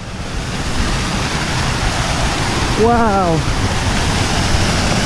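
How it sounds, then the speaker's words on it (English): Steady broadband rush of a waterfall on a boggy Scottish mountain path near Ben Hope, Sutherland, heard as a constant roar, with a man briefly exclaiming partway through. "I can hear a row of another waterfall."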